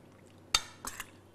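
A spoon stirs food in a pot during cooking of a coconut milk pumpkin dish, giving one sharp metallic clink followed by a couple of softer scraping clinks, close and fairly quiet against a low background hum.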